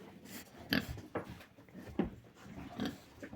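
Farm pigs grunt and snort close by in short irregular bursts, several grunts over a few seconds with no talking.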